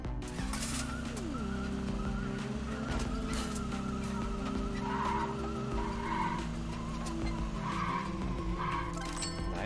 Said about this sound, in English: The car feels fun to drive.